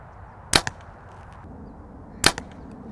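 A compound bow looses two arrows at a target 30 feet away, each a sharp snapping release followed quickly by a smaller thwack, about 1.7 seconds apart over quiet background.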